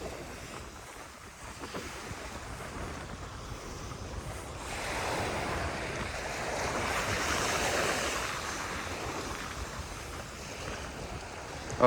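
Ocean surf rolls onto the beach at Palm Beach, Florida, a steady wash of waves swelling louder midway, with wind buffeting the microphone throughout.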